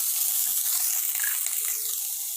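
Chopped onion and green chillies sauté in hot oil for semiya upma, giving a steady, close, unbroken sizzle with no voices over it.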